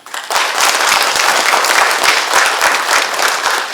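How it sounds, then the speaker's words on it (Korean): Loud, dense audience applause fills a safety-culture training session at a museum, steady clapping from many hands lasting several seconds with no talk over it. "큰 박수 한번 주시죠"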